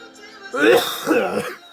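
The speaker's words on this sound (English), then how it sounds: "Sorry for coughing all over the place." A sick person coughs twice, close and fairly loud, with a short rough throat-clearing quality to each burst.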